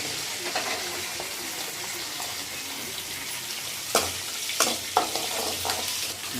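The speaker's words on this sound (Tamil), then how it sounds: "நம்ம இப்போ சின்ன வெங்காயம் போட்டுக்கிட்டோம்" Small onions (shallots) with curry leaves frying in hot oil: a dense, even sizzle continues throughout, close and fairly loud, with a few spatula scrapes near the end and no speech.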